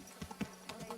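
Faint horse hoof clip-clops in the video game Kingdom Come: Deliverance 2, a few soft uneven knocks within a second, distant and quiet.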